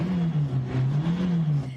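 Vintage collector cars and motorcycles parading over Paris cobblestones, an engine drone rising and falling gently as vehicles roll past close by, steady and moderately loud.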